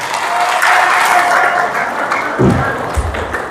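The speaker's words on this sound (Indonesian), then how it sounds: "silakan berikan tepuk tangan bu" Parents and students at a junior and senior high school report card ceremony give a burst of close, dense applause. It thins out near the end, with a low voice or murmur coming in over it.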